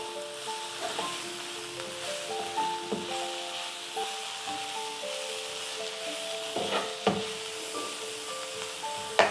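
Dal fry being stirred in a pan, a soft, close sizzle with faint scraping and rubbing strokes of the spoon, quiet and continuous, with a few sharper clicks.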